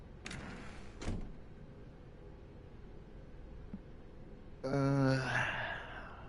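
A door in the video game The Stanley Parable, heard as two sharp clicks or knocks early on, then a louder sliding, creaking swell a few seconds later, in a quiet room.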